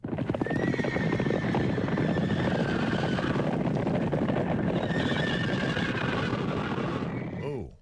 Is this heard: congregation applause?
no